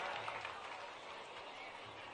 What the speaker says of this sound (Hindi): मुख्यमंत्री जी के लिए तालियां बजाओ।